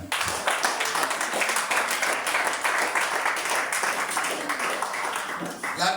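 Sustained applause from a church congregation, loud and dense clapping filling the room without a break, with faint voices mixed in.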